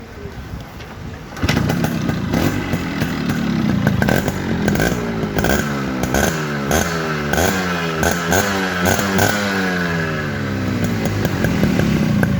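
After a quiet start, a Yamaha RX 100 motorcycle engine bursts into loud nearby running, its pitch rising and falling repeatedly as it is revved, with no speech.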